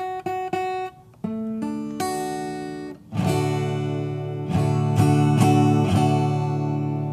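Acoustic guitar strums ring out clearly, a few quick plucks followed by fuller sustained chords struck several times, close and alone.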